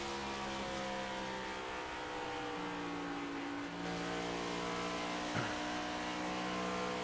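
Simulated race car engine held at a steady high pitch in fourth gear on the main straight at Pocono Raceway in an online racing game, a continuous loud drone with layered engine tones and a slight pitch dip near the end.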